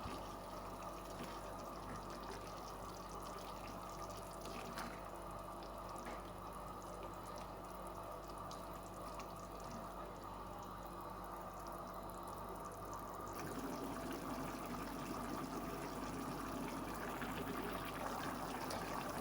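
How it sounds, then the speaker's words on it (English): A meat and vegetable pot simmers at a boil after meat water is added, giving a steady, close bubbling and dripping wash that runs unbroken and grows slightly fuller toward the end, with no talking. "After adding the meat water, you leave it to boil for 3 minutes."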